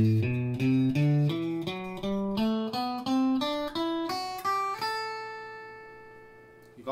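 Guitar playing a major scale pattern, single plucked notes stepping up in an even rhythm, clean and close, ending on a sustained note that rings out and fades.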